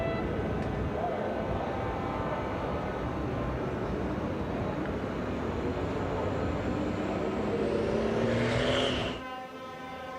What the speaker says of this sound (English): You can hear some of the trucks now making their way out for the French Truck Racing Championship